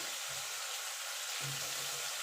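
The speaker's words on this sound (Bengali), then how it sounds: "তার আলুটাকে আমি লাল লাল করে ভেজে তুলে নেব" Potato pieces frying in hot oil, a steady broad sizzle filling the clip at close range with faint stirring thumps underneath.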